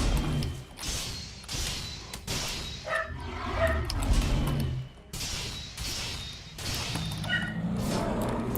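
A dog barks indoors in a room, several short muffled woofs scattered over a steady background of game sounds and thuds, the barks mid-distance and not very loud.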